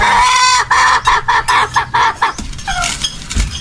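Chickens cluck in a busy, rhythmic series of close bursts, with a hen laying eggs and a rooster-like call rising near the end, loud and without talk.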